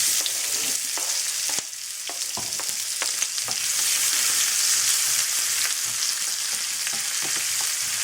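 Onions browning in a good glug of hot vegetable oil, frying with a steady loud sizzle and crackle throughout, with occasional stirring clicks and no talk.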